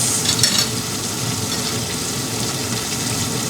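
Dried anchovies (dilis) hit a hot pan with vinegar, giving a dense, steady sizzle and crackle at close range, with a brief louder burst at the start.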